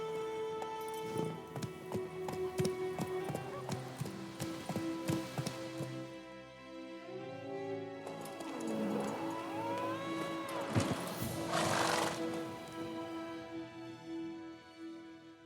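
Hooves of the horse Roach in The Witcher 3 clop along at a steady pace under game music, with rain-like ambience and a brief whoosh partway through.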